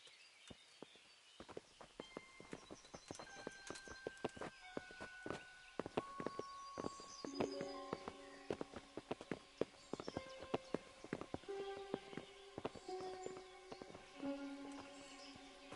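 Horses walk with steady clip-clopping hooves in the Kingdom Come Deliverance video game, the hoofbeats fairly close and overlapping under quiet tonal background sounds.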